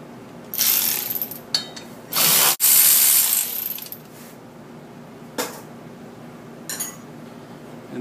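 A ratchet clicks close up while the belt goes back onto a Maverick, with several quick bursts of ratcheting, one longer run in the middle, and short mechanical clicks between them.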